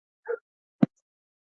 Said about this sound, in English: Sorry if you hear dogs in the background.